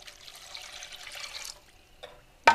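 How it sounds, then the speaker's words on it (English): Water is poured into a lemon meringue pie filling mixture in a home kitchen, giving a steady trickling splash for about a second and a half that then fades, followed by a brief clink and a sharp knock. "And now to this, I'm going to add in my water."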